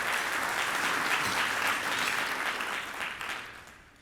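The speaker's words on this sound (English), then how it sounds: "A round of applause for them," Sustained applause from an award ceremony audience at the GABBY Awards, steady dense clapping that fills the room before fading out toward the end.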